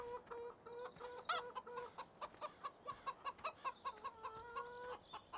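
Hens in a Farming Simulator 17 chicken coop give a run of rhythmic, repeated clucks, close and clear, with a few sharper squawks early and a steady pulsing pattern through the middle, no voices present.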